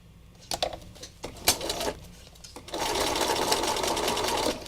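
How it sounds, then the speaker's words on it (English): A sewing machine stitches rows on fabric, first in a few short, separate bursts of needle clatter, then settling into one steady, continuous run close by, with no one talking. "So we'll probably get a couple more rows of stitching on here,"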